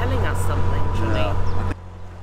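A noisy boat engine drones steadily with a low hum, heavy and close, under people talking, before dropping abruptly to a quieter level near the end.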